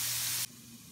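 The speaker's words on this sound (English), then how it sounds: "Alright, saute one onion" Onion sautéing in a pan gives a broad, steady sizzling hiss that cuts off abruptly partway through, leaving a quieter low background.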